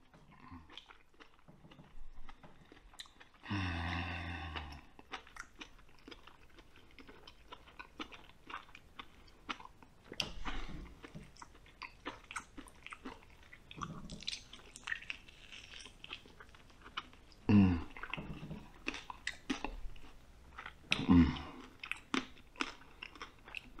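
Lamb head being eaten, with close, wet chewing, crunching and biting that runs steadily throughout and includes several louder crunchy bites.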